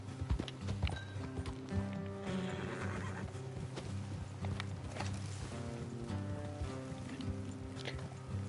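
Horses' hooves clip-clop steadily in Red Dead Redemption 2, with whinnies and neighs mixed in, the riding sustained and fairly close against a dense game soundscape, with no talk.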